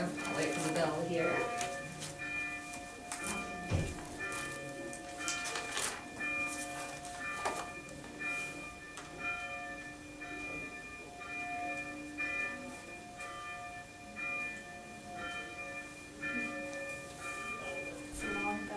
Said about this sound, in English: It's a long bell.